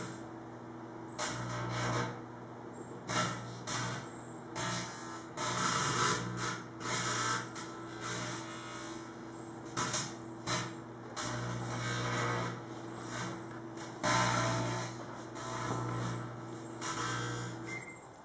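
Aluminum foil arcs inside a running microwave oven with a welding-like sound. Faint, irregular crackling and sizzling bursts ride over a steady electrical hum.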